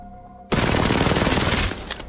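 Full-auto gunfire in the video game Apex Legends: after a brief quiet start, one sustained, dense, loud burst of rapid shots lasting over a second, then a quick cutoff.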